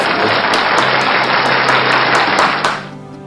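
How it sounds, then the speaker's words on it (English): A round of applause for Year 11 students at a school presentation evening, dense and steady clapping from a crowd that fades out near the end. "And normally we give you a round of applause now, so that's what we're going to do."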